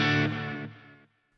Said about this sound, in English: gives you that tape flutter sound